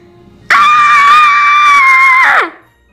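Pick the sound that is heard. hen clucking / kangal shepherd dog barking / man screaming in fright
man screaming in fright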